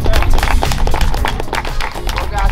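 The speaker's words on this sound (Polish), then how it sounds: "brawa!" Clapping for Barteusz, a dense run of quick hand claps that stays loud and close for the whole stretch, mixed with excited voices talking and cheering over it.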